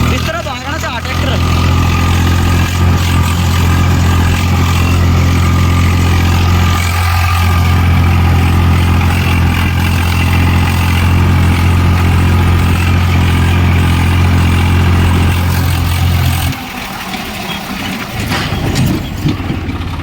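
A Swaraj 855 tractor with a broken wheel bearing runs with a loud, steady low engine drone up close for most of the clip, then the tone drops and changes near the end while voices speak over it.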